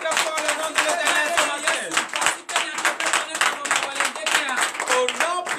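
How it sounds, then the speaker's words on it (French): Loud, rapid clapping from a church congregation at a morning prayer service in Benin, with voices crying out in praise mixed through the steady burst of hands. "Acclamez très très fort le nom de l'Éternel"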